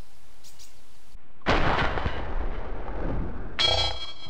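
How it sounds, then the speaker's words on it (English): Gunfire in the video game DayZ, a loud burst of shots and echoing report followed by a second sharp crack near the end. "Oh, somebody's shooting."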